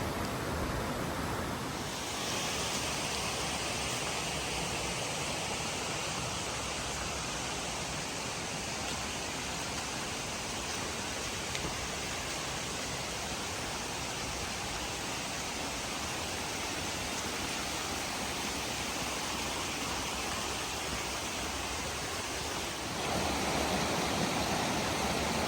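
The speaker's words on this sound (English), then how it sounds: "Here's the creek." Flowing creek in the Smoky Mountains among big trees and rhododendrons, a steady broadband rush of water heard alone and fairly close, continuous for the whole stretch with a slight change near the end.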